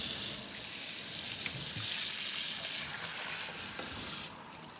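Running water rushes steadily through milking equipment hoses as they are rinsed, a close, broad hiss that stays even for several seconds before easing slightly at the end.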